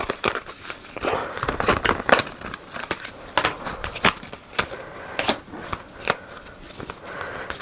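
Die-cut card pieces are pushed out of a card sheet, producing irregular close snaps and papery crackles in quick uneven bursts, with faint handling rustle between them.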